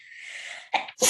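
A single sharp sneeze bursts out, preceded by a short hissing intake, close and fairly loud.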